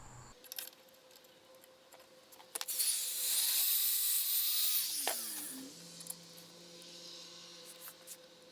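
Drill boring out a hole in a Kohler engine bearing plate from a Wheel Horse 704 tractor: a loud, steady whining bite for about two seconds, surrounded by quieter tool handling, clicks and clamp noises up close.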